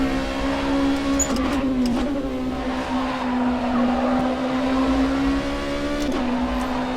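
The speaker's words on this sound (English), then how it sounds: "Just at the apex already on full throttle." An LMP2 prototype race car in the rFactor 2 racing game pulls out of a corner at full throttle, its engine holding a steady high drone with slight pitch shifts, loud and continuous, with no talk.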